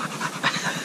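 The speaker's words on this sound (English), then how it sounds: "and that's the dog for the viewers." A dog panting close up, quick rhythmic huffing breaths repeating steadily and fairly loud, with no talk over it.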